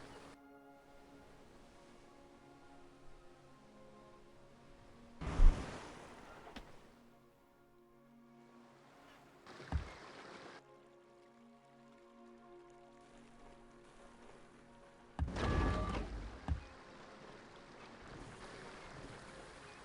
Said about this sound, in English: I do like the submarine noises, they're intimidating.